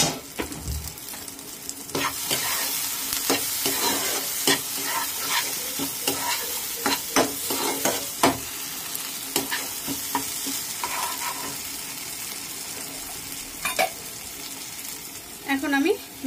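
Fried potatoes are being stirred in a pan with spices, the sizzling frying running continuously under repeated scraping strokes of a spoon against the pan, fairly close and moderate in level.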